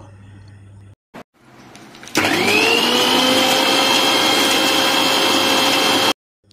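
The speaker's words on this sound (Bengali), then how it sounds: "তাই অল্প দুধ দিয়ে বাদামটা আগে পেস্ট করে নেব।" A kitchen blender grinds almonds with a little milk into a paste, starting with a loud steady whirring roar that holds for about four seconds before cutting off abruptly, after a brief quieter start.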